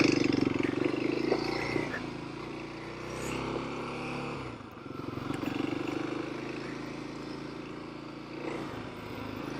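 Kawasaki KLX 300 dual-sport motorcycle riding off on the streets of Boise, Idaho, a continuous engine drone with wind rush and road rumble, fairly steady and loud throughout with slight changes in pitch as it moves.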